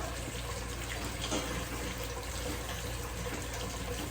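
Water is poured from a tap into a pot to cook Quaker old-fashioned oatmeal, a steady, continuous splashing stream close by with no talking.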